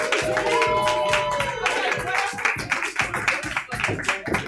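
Scattered clapping from a comedy show audience, uneven and moderately loud, with cheering voices mixed in early and sharp individual claps toward the end.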